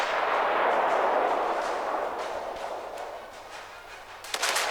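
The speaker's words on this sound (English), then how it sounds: "Shots out at Kutuzov" Battleship main guns firing in World of Warships from a North Carolina battleship in a ranked match. A broad, roaring barrage rumbles throughout and fades slowly, and a sharp, loud report breaks in near the end.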